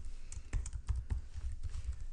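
Rapid keystrokes on a computer keyboard, close and steady, typing out text in an irregular patter with a low hum underneath.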